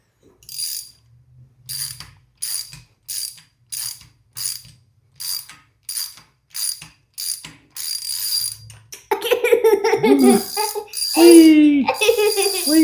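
Socket wrench ratcheting on an engine valvetrain during a roller cam install, a series of short, evenly spaced clicking bursts, then squealing, laughing voices take over near the end.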